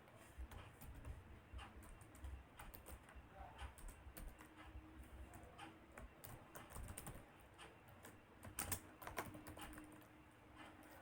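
Code is typed on a computer keyboard for a simple mobile programming exercise, with steady, close clattering keystrokes in uneven bursts and a faint voice in the background.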